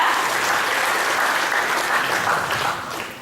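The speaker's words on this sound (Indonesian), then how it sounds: "Sekarang tepuk tangan buat pembicara kita." An audience at a seminar applauds a speaker with dense, steady clapping that stays loud throughout and eases slightly at the end.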